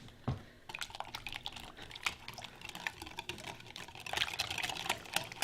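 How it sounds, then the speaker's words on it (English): A wire whisk beats melted shortening, butter and chocolate in a bowl for homemade chocolate cake, making a steady, faint patter of quick soft clicks and taps. "We should be able to beat it with a wire whisk now."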